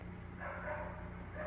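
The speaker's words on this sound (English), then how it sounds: "What you're hearing now are dogs barking." A dog's muffled bark rises briefly over a steady low hum, faint and somewhat distant.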